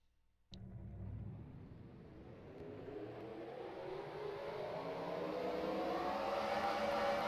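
Race trucks in a racing video game roll off together at Riki Raceway, a steady whirring engine roar that begins abruptly and builds gradually in pitch and loudness as the field accelerates, heard alone.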